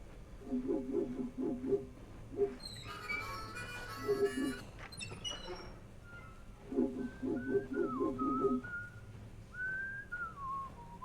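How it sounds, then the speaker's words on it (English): A game character whistles a tune in Shadows over Loathing, bursts of short warbling notes in phrases with pauses, fairly clear and alone, later shifting to longer sliding whistled tones. "Looks like you found the source of that whistling."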